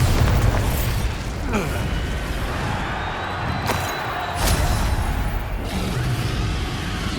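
Bombarda blasting spell in Hogwarts Legacy, booming explosive bursts that repeat over several seconds amid ongoing combat noise, with a voice speaking over the action.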